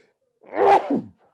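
A single sneeze bursts out close by, a sharp rising intake followed by a short explosive release, then quiet.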